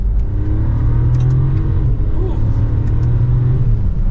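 A 2024 Mercedes-Benz S580e plug-in hybrid sedan accelerating hard from second gear, heard from inside as a loud, steady low engine rumble with a rising drone.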